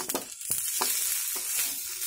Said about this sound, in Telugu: దొండకాయ అయితే వేగిపోయింది